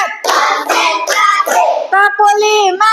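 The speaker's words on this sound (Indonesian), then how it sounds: "Tepuk 1. Tepuk 2. Tepuk 3. Tepuk 4." Children in a classroom clap their hands in counted bursts, sharp claps close by between sung and chanted voices.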